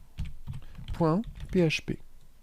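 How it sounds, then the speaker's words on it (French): Quick keystrokes tap on a computer keyboard, ending with the Enter key, a few sharp close clicks while a voice talks over them. "J'appuie sur la touche Entrée du clavier où je clique sur Enregistrer."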